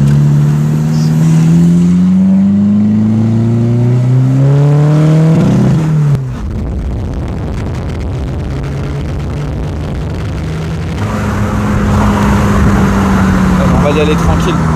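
A stage 3 tuned car that smokes heavily accelerates hard, its engine note climbing loudly through revs, dropping at a shift, then rising again, with people talking inside.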